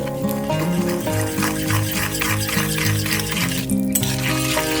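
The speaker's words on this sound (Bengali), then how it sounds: "এবার আমি এই ঘিয়ের মধ্যে কিছুটা হিং দিয়ে দিচ্ছি। হিং একটু ভেজে নিচ্ছি।" Asafoetida frying in melted ghee gives a steady sizzle with occasional stirring scrapes, heard close but partly under music.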